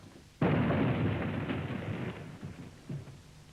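An explosives round fired underground during coal mine shotfiring gives one sudden, loud blast that rolls on as a broad rumble for about two seconds before fading, with a smaller thump near the end.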